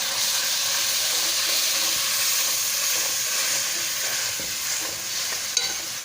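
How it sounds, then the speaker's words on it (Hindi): Tomatoes and green chillies frying with softened onions in a pan, a steady close sizzle with occasional stirring scrapes running throughout and no talk. "हमने इसमें टमाटर डाल लेना है और हरी मिर्च डाल के अच्छी तरह से मिक्स"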